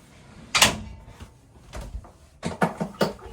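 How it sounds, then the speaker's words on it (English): A sliding door in the hull of a Lagoon 380 S2 catamaran closes with a sharp knock, followed by a few softer bumps and rattles as it settles, close and indoors. "Let's close the sliding door and make this hull completely private."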